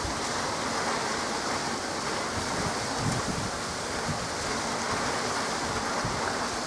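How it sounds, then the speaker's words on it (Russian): Dense, continuous roar of heavy rain driven by a strengthening squall's gusting wind, a broad rushing wash that stays loud and unbroken throughout. "О, шквал усиливается."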